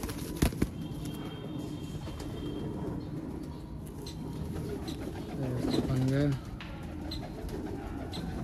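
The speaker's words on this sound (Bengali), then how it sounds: "এটা হচ্ছে ওই আগে লাল কাঠ নরের মাদি পায়রা।" A pigeon kept for sale in a cage gives one short, close, warbling coo over a low background hum, with a sharp tap just before.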